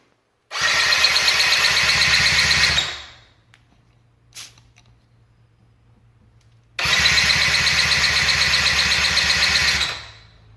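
A 50cc Blue Dino engine sprayed with starter fluid cranks and runs loudly for about two seconds, dies to near silence with a brief click, then fires up again for about three seconds.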